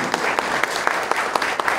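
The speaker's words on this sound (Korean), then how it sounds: "우리 심재식 증경이사장님을 위해서도 우리 함께 축복의 박수 해 주시면" Audience at a church missionary board meeting gives a short round of applause in a worship hall, dense clapping with a few sharper individual claps standing out.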